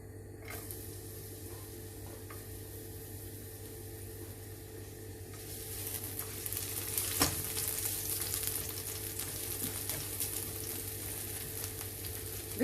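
Garlic hitting hot cooking oil in a pan, a faint steady sizzle that swells louder and brighter about halfway through and keeps crackling to the end, with no one talking.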